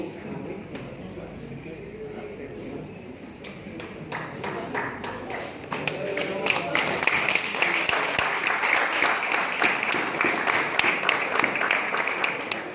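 A seminar audience applauds, starting as scattered, moderate clapping that swells into fuller, denser applause midway through, with some voices underneath.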